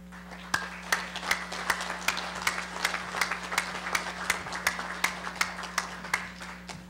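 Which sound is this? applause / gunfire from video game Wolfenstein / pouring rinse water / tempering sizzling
applause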